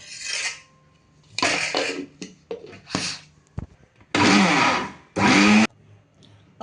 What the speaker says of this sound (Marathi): मिक्सरमध्ये एकदा सगळं फिरवून घ्यायचं